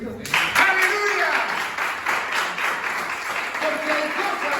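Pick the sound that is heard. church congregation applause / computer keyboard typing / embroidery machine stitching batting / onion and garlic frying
church congregation applause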